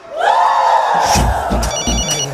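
A telephone rings loudly and close, a bright warbling ring that starts at once and carries through the moment, with thumps and other sounds breaking in near the end.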